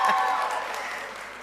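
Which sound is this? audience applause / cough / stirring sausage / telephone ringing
audience applause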